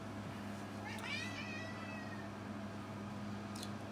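A cat meows once, a rising-then-falling call over steady room hum, with a faint second cry near the end; it sits close, with no talk over it.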